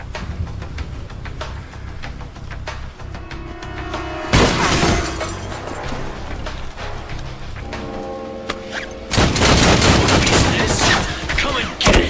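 Loud bursts of gunfire in the shooter Army of Two, dense volleys with shattering impacts, ending in two heavy sustained barrages amid a busy game soundtrack.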